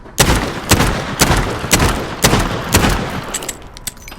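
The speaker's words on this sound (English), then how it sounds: "here we have the 357 Magnum" .357 Magnum revolver firing in Call of Duty: Modern Warfare, with seven loud, sharp shots spaced about half a second apart and the booming tail of each one carrying into the next.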